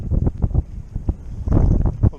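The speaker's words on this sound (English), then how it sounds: "It's a little windy." Gusty wind buffets the microphone in uneven low rumbling bursts while flounder fishing, loudest toward the end, with no voices.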